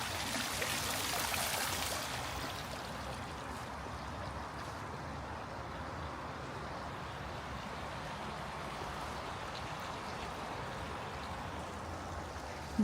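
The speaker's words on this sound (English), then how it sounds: "You have this beautiful pool, and it is a big boy with a water feature." A backyard swimming pool water feature runs as a continuous rush of falling water, slightly louder for the first two seconds and then steady and moderately quiet, with no talk.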